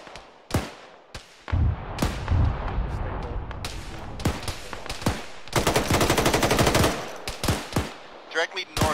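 Heavy gunfire in a military video game, with bursts of automatic fire and single shots crackling close and loud, sometimes in rapid strings, alongside louder sharp reports.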